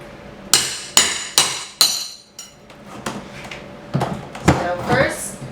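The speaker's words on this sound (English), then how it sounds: "try to find where the nails are, hammer it in" Hammer striking a pry bar while paneling and nails are pulled from a wall: three sharp metallic blows in quick succession, then a pause and a few lighter knocks and scrapes, close and loud.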